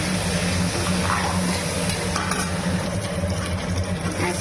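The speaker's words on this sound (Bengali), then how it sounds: "আমার আলু বেগুন ভাজা হয়ে গেছে" Potatoes and eggplant fry in a pan with turmeric, giving a steady close sizzle with faint stirring and no speech.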